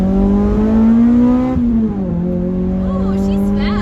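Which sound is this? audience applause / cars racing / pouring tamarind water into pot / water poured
cars racing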